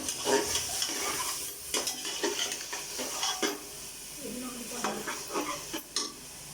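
Carrots tumble into a pan of cooked spice masala for a potato, pea and carrot mixed-vegetable dish, giving a steady sizzle with scraping spoon strokes and light clinks against the pan.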